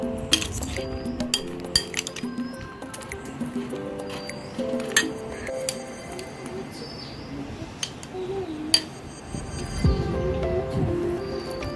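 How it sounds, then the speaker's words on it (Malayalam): Curd vada batter with chopped carrot and pomegranate stirred by spoon in a bowl, giving soft wet squishes with scattered light clinks of metal on the rim throughout, close and moderately quiet. "നമുക്ക് നല്ലപോലെ മിക്സ് ചെയ്യാം."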